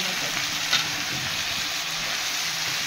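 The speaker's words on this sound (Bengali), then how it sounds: "ভালো করে ভেজে নেব।" Fish, with some eggplant, sizzles hard in hot oil in a pan for a thin Bengali fish curry. The frying makes a loud, steady hiss close up that runs the whole time.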